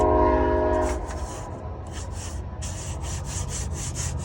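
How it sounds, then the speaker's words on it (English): A train passes nearby, its horn blaring at the start before fading into a continuous rumble with rhythmic rattling and squealing from the wheels and cars rolling over the rails. "train's gonna interrupt."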